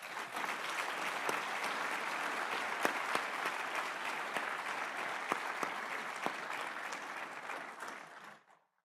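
A round of applause from a conference audience at an energy forum in Abu Dhabi, steady dense clapping at moderate distance for about eight seconds before fading out, with no talking.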